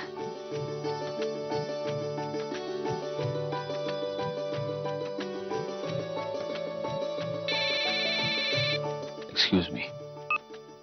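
A telephone rings with repeated electronic ringback tones as a call is placed indoors, the pattern pulsing over soft background music, followed by a brief clatter and a voice.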